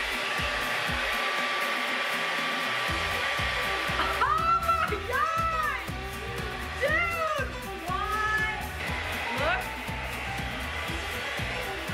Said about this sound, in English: The instructions say that I need to blow dry my hair now,